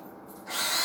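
A power drill in a video game spins up, with a low mechanical hum for half a second and then a loud, bright whine that holds to the end.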